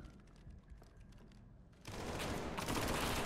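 In the SCP: 5K video game, a burst of dense rapid gunfire suddenly breaks in after a quieter stretch of clicking and rustling, then stays loud and continuous to the end.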